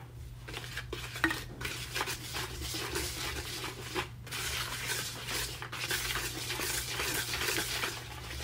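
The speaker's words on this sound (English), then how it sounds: "So I whisk all these dry ingredients together." A whisk scrapes and clinks steadily around a bowl, stirring dry cornbread batter ingredients, flour with nutmeg, cinnamon and salt, for sweet potato cornbread. The busy, close rasping runs continuously over a low kitchen hum.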